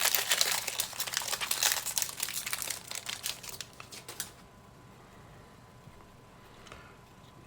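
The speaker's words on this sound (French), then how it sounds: "On va ouvrir le topper de la moderne." A Magic: The Gathering Modern topper pack being torn open: loud, close foil crinkling and tearing for about four seconds, then quiet handling.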